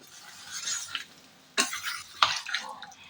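A spatula stirring and scraping chicken tikka masala in a pan, with a few sharp clacks against the metal and soft wet mixing sounds, close and fairly quiet.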